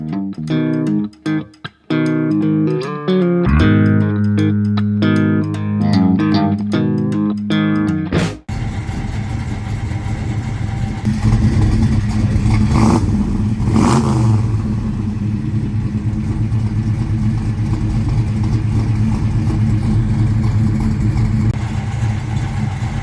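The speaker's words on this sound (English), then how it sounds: "An Oldsmobile Cutlass 442" A 1968 Oldsmobile 442 V8 engine runs loud and close with a steady rumbling idle and slight swells, following several seconds of music at the start.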